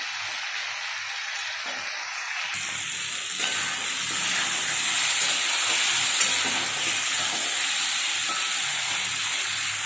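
Hot oil crackles and hisses, getting louder and fuller partway through as dried red chillies hit the pan, then sizzles steadily with no talking.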